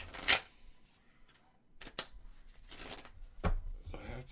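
Tarot cards are shuffled in several short bursts of riffling and rustling, with quiet pauses and a few soft taps between them, close and fairly faint.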